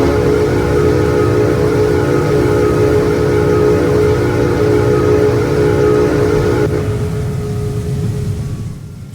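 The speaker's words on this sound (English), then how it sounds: "And then if we move on to the Australian version, here's its secondary whistle." The secondary whistle of an LNER A3 Flying Scotsman steam locomotive in Train Simulator Classic, Australian version: a loud, sustained chime-like tone held steady for about nine seconds before tapering off, heard alone.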